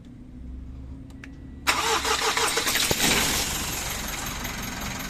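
A Mitsubishi Montero with a 4N15 engine, thermostat removed after overheating, cranks with a short whirring starter, then catches abruptly and settles into a loud, rough idle.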